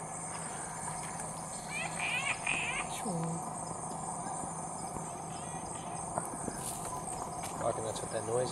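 Native frogs call at night in the Cape York jungle, a dense steady chorus with insect-like trilling and brief chirping bursts scattered throughout, with a low voice faintly present at times.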